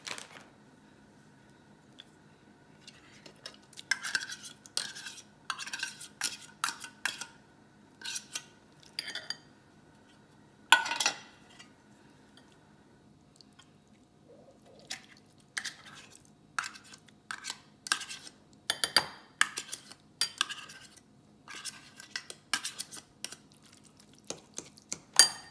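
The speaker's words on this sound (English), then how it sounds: "So now I'm going to mix it in this bowl" Drained canned tuna being mixed in a bowl for keto tuna salad, with repeated clinks and scrapes of a utensil against the dish coming in irregular bursts, close and fairly quiet, with no talking.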